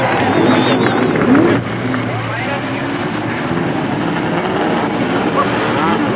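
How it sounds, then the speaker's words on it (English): Race car engines fire up along pit road at Pocono International Raceway for the 1987 Pocono 500, a broad sustained engine roar rising and holding steady, with a commentator talking over it. "the engines now fire up and down the pit road here at Pocono International Raceway"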